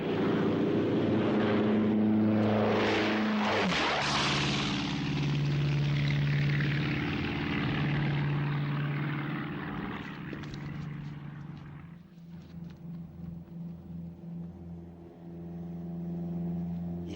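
A propeller airplane drones in flight, a loud sustained engine hum with shifting tones, swelling early then settling into a steadier, slightly pulsing roar that dips and returns toward the end.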